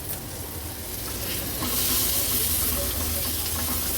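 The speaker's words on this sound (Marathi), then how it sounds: "मसाले परतून झाले की आपण ह्याच्यामध्ये एक छोट्या साईजचा टोमॅटो ऍड करूया बारीक चिरून घेतला आहे" Small finely chopped tomato frying with spices in a pan, a soft sizzle and stirring that swell into a louder, hissing fry halfway through, no speech.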